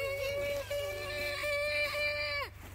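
A distressed rabbit's thin, high-pitched squealing cry, sustained and wavering for a couple of seconds, over a low background hum.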